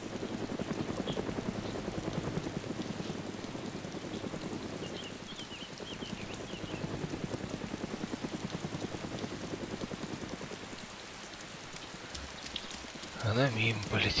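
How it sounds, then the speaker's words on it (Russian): A helicopter flies past in the DayZ video game on the Taviana map, a steady rapid rotor chop filling the scene before fading and giving way to other noises near the end. "Вертушка?"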